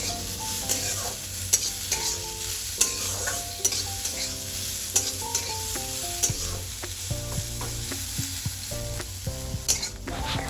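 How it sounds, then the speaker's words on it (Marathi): Onions frying in oil in a pan for chicken Hyderabadi, browning to a reddish colour: a steady sizzle runs throughout, broken by repeated scraping and clinking of a stirring spoon, with no talking. "कांदे परतवण्याला मी आता सुरुवात करणार आहे."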